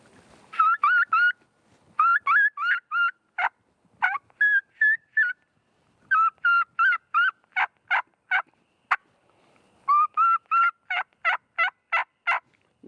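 A human voice imitating a wild turkey's kee-kee or keying call, the first note of a newborn poult or a lost turkey, rendered as rapid runs of high whistled chirps in repeated bursts with short gaps, close and clear.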